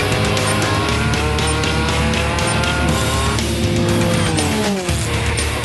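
A race car cornering hard on a track, its engine loud and close with pitch swinging between throttle lift and acceleration as the tires squeal through the turn.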